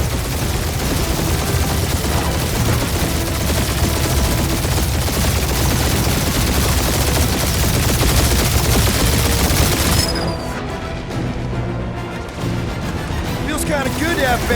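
Dense gunfire from Marvel's Guardians of the Galaxy, with rapid bursts and a continuous barrage over layered game effects, dropping away near the end into quieter clatter.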